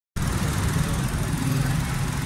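A Honda Diva car engine, freshly swapped, runs steadily after starting, with a loud, close, continuous low rumble and a broadband hiss. There is no audible talk.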